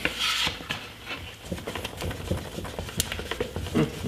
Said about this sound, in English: you want to keep mixing until there's no blue streaks and there's no white streaks